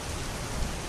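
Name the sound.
rain and storm lashing against windows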